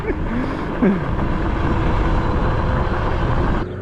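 A 420 HP drift trike powered by a dirtbike engine is ridden up a steep road incline, a steady, loud, rushing engine and wind roar that continues for a few seconds before easing slightly at the end.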